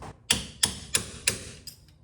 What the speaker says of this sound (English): I'm thinking I might just go at it with a hammer and a punch